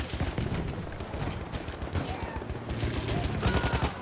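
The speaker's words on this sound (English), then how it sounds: "Oh, that was his gun, bro." Rapid gunfire from another player's weapon in a video game, a dense stream of sharp shots at steady close range with game ambience throughout.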